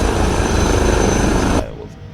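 Airbus H160 helicopter engines in the MSFS 2024 game running loud and steady with a whine, then abruptly dropping to a lower, quieter idle hum near the end.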